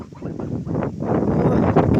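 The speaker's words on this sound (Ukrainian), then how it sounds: "Вітрисько сьогодні." Strong wind buffets the microphone with a constant low, rumbling roar that swells and stays loud for the whole stretch.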